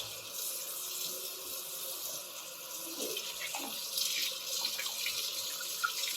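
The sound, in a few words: shrimp rinsed under cold running tap water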